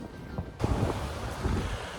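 Ocean surf beside Lagoon Road on a Marshall Islands atoll, a sudden rush of waves and wind noise that becomes a steady close roar after a quiet start.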